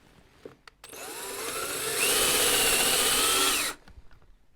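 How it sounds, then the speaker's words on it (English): A power drill boring a centre hole in spalted wood whines steadily for a few seconds, its pitch rising as it bites, then cuts off abruptly; faint clicks before and after. "So first thing, to drill a hole at centre for the screw chuck."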